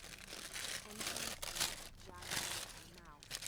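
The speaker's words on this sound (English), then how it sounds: "never mind the crinkling" Wrapper or packaging crinkling close to a microphone in bursts of soft crackling rustle, with a voice heard faintly at moments.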